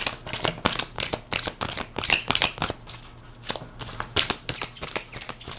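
Tarot cards shuffled close up, a quick run of crisp riffling flutters and slaps in an irregular rhythm, with no talking.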